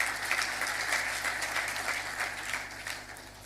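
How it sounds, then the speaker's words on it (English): A conference audience applauds Dr. Tal at a national fisheries investment conference, a dense, sustained round of clapping that starts strong and eases slightly while continuing throughout. "A round of applause for Dr. Tal"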